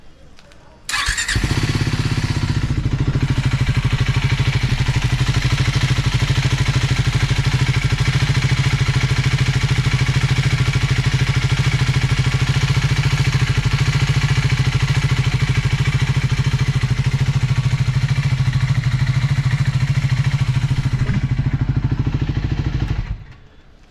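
A Triumph Scrambler 400 X motorcycle engine starts abruptly and runs at a steady, close, loud idle with a mechanical clatter for about twenty seconds before cutting off.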